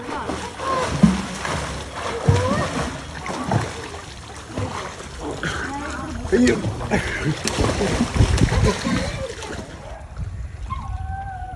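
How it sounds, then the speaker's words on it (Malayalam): Water splashing and sloshing from people diving and swimming during a weekend family outing, with paddling nearby; steady watery noise runs throughout under ongoing voices and chatter. "പല രീതിയിലൊക്കെ ഡൈവ് ചെയ്ത് തകർക്കുന്നുണ്ട്"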